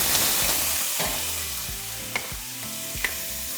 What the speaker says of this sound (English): once oil is hot, we're going to add 2 small potatoes